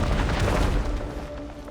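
A breakable wall smashed in the video game Genshin Impact gives a single loud, deep boom with a rumbling crash that fades within about two seconds.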